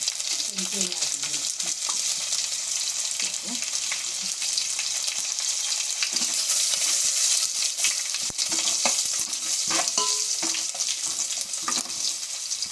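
Garlic fries in a pan for soppina gojju with a steady, bright hiss of sizzling oil, occasional spatters and a few stirring scrapes, close up, with brief faint voices in the background.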